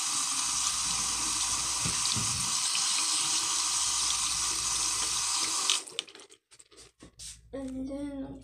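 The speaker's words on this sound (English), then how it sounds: "now I'm going to turn on the water just in case." Water streams from a sink faucet in a steady, close hiss for several seconds, then cuts off, followed by brief clatter and a voice speaking.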